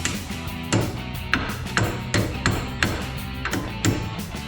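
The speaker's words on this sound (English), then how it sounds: "Take a small screwdriver or a roll pin punch and just hammer it in the rest of the way" A roll pin punch is hammered to drive a brake caliper pin home on a 2008-2021 Dodge Challenger, sharp metallic strikes landing in an uneven series of about eight close, loud taps.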